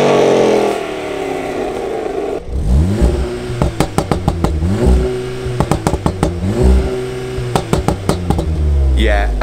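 A modified Golf R and an Aston Martin Vantage V8 revved hard in turn, loud rising engine bursts with crackles and pops between blips, close by and dominating.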